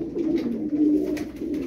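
Tumbler pigeons cooing close by in a soft, continuous low rolling phrase.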